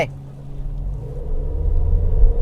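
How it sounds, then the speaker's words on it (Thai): A Toyota Yaris Sport Premium fitted with an electric throttle controller pulls away hard from a standstill, its engine rumbling low and rising steadily in pitch and loudness as it accelerates, heard from inside the car with no talk. "เดี๋ยวเรามาลอง0ถึงร้อยที่เบอร์ศูนย์กันก่อนนะครับ"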